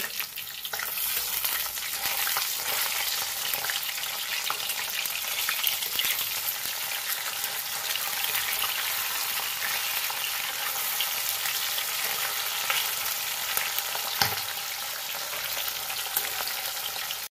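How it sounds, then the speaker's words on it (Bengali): Pabda fish frying in oil sizzle loudly and continuously up close, with occasional scraping as the pieces are turned one by one. "এবার আমি মাছগুলোকে উল্টে নেবো একে একে। এক পিঠ ভাজা হয়ে গেছে।"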